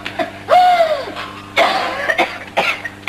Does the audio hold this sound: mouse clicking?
no